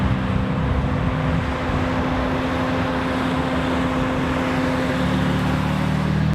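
A modified BMW M4 LCI Competition Package engine idles at a loud, steady drone with an even low hum and no revving or talk.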